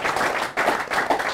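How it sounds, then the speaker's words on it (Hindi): Audience at a Haryana farmers' quiz show claps to welcome the first Kisan Cup winner, a lively burst of crowd applause with uneven surges and brief dips, fairly close and without talk. "जोरदार तालियों के साथ उनका स्वागत कीजिए"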